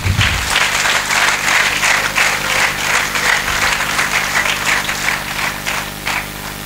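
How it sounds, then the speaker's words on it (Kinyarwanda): A church congregation applauds during a sermon: dense, steady clapping from many hands, loud and continuous throughout with no talking over it. "Twongere Imana amashyi niba bikunda."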